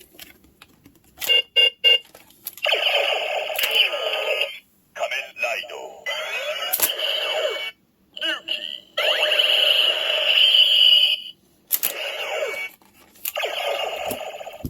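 Kamen Rider Decadriver toy belt, Super Best DX edition, sounding its electronic Ryuki card call in bursts of bright synthetic tones and voice effects with short gaps between them, close and fairly loud.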